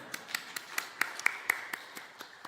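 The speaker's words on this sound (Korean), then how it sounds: "네, 큰 박수 부탁드리겠습니다." A church audience at a Korean Bible conference gives a sparse, faint round of claps, about a dozen distinct slaps spread unevenly across the moment, distant and quiet with no talking over them.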